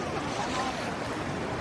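Ocean waves at Siargao Island in the Philippines, a steady broadband rush of surf with wind noise, close and fairly loud, continuous with no clear breaks and no talk.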